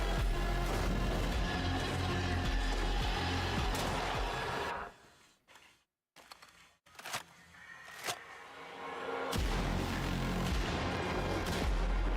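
Heavy gunfire and booming blasts from a video game trailer, loud and sustained, breaking off briefly into a few sharp isolated shots before the barrage resumes at full intensity.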